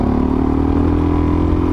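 A DRZ400 dual sport motorcycle, geared tall, chugs close and loud as it climbs rocky single track, its engine pulsing steadily with clattering from the terrain and no voices.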